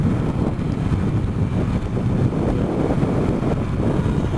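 Wind noise while riding a Kawasaki Z900RS motorcycle, a loud, continuous low roar of rushing air buffeting the microphone with no break.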